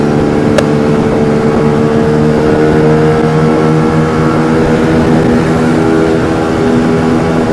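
Motorcycle engine droning steadily while riding in fifth gear, a loud, even hum held at constant speed, close to the rider with no talk.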